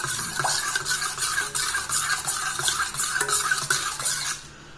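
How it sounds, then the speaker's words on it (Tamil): A spoon stirs a herbal soap mixture in a bowl, giving close, rhythmic scraping and clinking strokes repeated steadily, with no talk. "இப்போ நல்லா கலக்கி வச்சுங்க."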